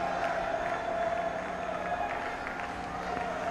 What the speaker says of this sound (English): joining in the applause.